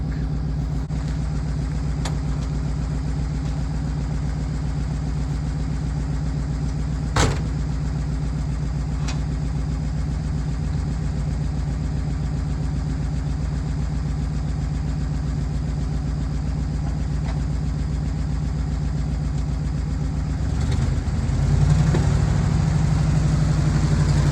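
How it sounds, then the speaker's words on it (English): A working dump truck engine idling steadily and loud up close, a low continuous rumble with a few faint clicks, then the pitch rising briefly near the end as it revs. "That, ladies and gentlemen, is what we call a working dump truck."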